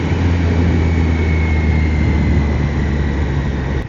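A Triumph Daytona 660 three-cylinder supersport motorcycle engine drones steadily and loudly from start to finish, a continuous deep hum with a faint high whine, heard alone with no talking.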